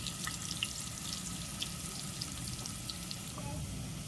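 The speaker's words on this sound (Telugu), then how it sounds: "అల్లం వెల్లుల్లి పేస్ట్లో పచ్చివాసన పోయేంత వరకు వేగించుకోవాలి" Ginger garlic paste fries in a pan with a soft, continuous sizzle and scattered small crackles, heard faintly and close up.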